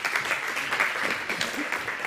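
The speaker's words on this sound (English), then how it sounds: "Give him a big round of applause" A forum audience at OECD Forum 2017 applauds a talk with a short, steady burst of many hands clapping together at moderate loudness.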